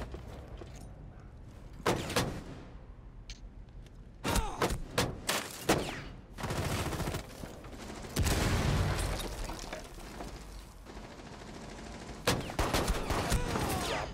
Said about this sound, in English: I'm literally shooting them in the face.